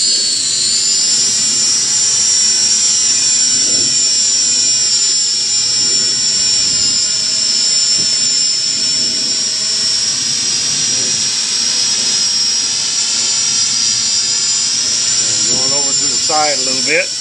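The motors of a Hubsan H216A X4 Desire Pro quadcopter whine steadily and loudly as it lifts off on auto takeoff indoors near a table, a high sustained buzz running throughout with a voice talking over it.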